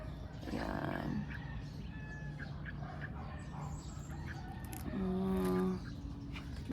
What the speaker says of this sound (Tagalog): Meron pa nga ibon dyan, oh.